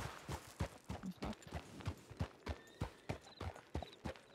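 Horse hooves clip-clopping in a western video game, a brisk, even rhythm of distinct hoofbeats close by with no other sound over them.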